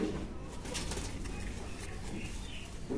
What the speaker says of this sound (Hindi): ये कबूतर है जी